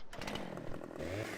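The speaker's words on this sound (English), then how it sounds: "Chainsaw." A chainsaw cutting trees in Farming Simulator 2015 buzzes loudly and continuously at close range, its engine note wavering and then settling into a steadier whine toward the end.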